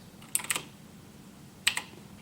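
Two short bursts of keystrokes on a Razer BlackWidow X Chroma mechanical keyboard, each a quick cluster of crisp clicks, close and clear against a quiet room.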